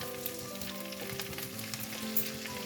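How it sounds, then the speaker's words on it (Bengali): Cut potatoes frying in a pan with curry leaves, a close, continuous crackling sizzle with no talk over it. "আলু আগে থেকে কেটে রাখা আলু এগুলোকে সব ভেজে নিতে হবে"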